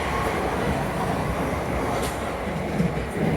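A passing Gatwick Airport or Brighton to Bedford passenger train heard from aboard another train makes a continuous, dense rumble with a brief rise of rail noise near the end, and no voices.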